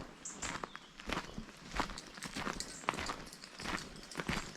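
Footsteps along a grassy lough shore path beside a small boardwalk, quiet and fairly close, landing in an uneven walking rhythm over a soft outdoor background.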